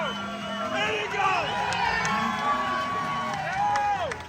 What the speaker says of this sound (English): Let's give it the cheer for him, guys.